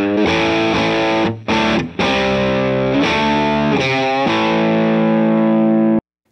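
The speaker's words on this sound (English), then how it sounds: "Now let's listen to the real amp and I'll go back and forth." An electric guitar played straight into a real amplifier with heavy distortion and saturation: a few chords struck and cut short, then a final chord left to ring out loudly before stopping abruptly.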